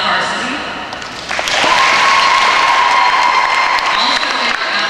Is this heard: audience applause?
yes